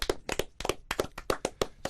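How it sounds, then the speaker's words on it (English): Several people give a short round of applause for Dusty, the winner, in a sparse, uneven patter of close hand claps with small gaps between bursts. "I think we need a round of applause"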